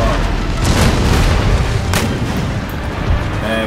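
Deep, rumbling cannon fire from Empire: Total War, with a loud, continuous rolling boom and a few sharper blasts running through it, close and heavy with no voices.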